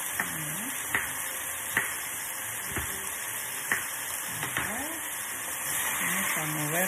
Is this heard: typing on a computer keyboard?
no